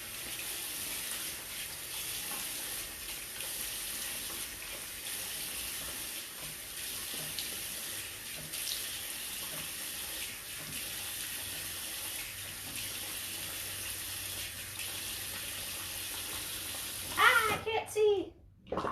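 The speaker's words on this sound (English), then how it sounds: "And then rinse it away. So give me just a second to rinse." A bathroom tap runs steadily while someone rinses their face at the sink, a continuous hissing water stream with splashing that breaks into louder handling sounds near the end.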